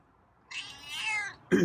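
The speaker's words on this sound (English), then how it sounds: "I think you meowed." A feral cat meows outdoors at feeding time, one long clear call up close followed by the start of a second sharp meow, with no talk over it.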